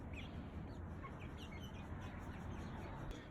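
Backyard chickens in a small homemade coop cluck softly and intermittently over a constant low background rumble, faint and fairly close, with no voices.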